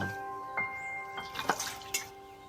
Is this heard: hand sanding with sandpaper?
no